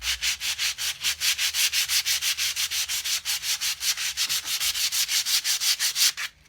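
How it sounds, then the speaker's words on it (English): Rhythmic hand sanding of a wooden cigar box guitar with sandpaper, rapid steady back-and-forth rasping strokes, close and loud, with no talking. "And then we're going to start hand sanding"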